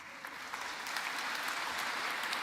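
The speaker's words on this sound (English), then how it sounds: "you deserve a huge round of applause" A conference audience at a national climate emergency summit applauds, a steady, dense wash of clapping at moderate level that builds slightly and holds throughout without voices.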